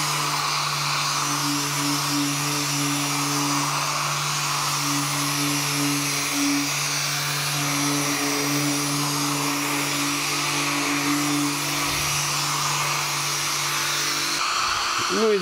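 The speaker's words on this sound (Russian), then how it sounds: "пылесос" A steady, droning vacuum cleaner motor whines continuously at close range while sanding dust is cleared from a lacquered car panel, cutting off near the end.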